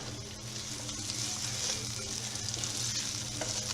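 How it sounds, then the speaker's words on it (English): Chopped onion sizzles steadily in a hot pan, a continuous close frying hiss with light stirring and no talking. "So I'm just going to cook this until it becomes translucent"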